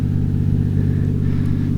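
Steady low engine drone and exhaust rumble from a 1996 Toyota Chaser Turbo JZX100 with a five-speed manual, holding an even idle-like note close by with no change in revs.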